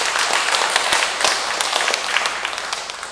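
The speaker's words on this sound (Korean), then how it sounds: "큰 박수 좀 부탁 좀 드리겠습니다." An audience at a parish monthly meeting breaks into a short burst of dense, close applause, many hands clapping at once, the sound fading slightly toward the end.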